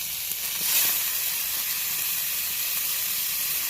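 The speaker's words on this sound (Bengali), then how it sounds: "কড়াটা গরম হয়ে গেছে কড়ার মধ্যে আগে টমেটো দিয়ে দেব টমেটো দিয়েছি" Tomatoes dropped into a hot, oil-free wok for a chicken curry give a steady, close hiss of steam and sizzle, swelling briefly near the start, with no talk.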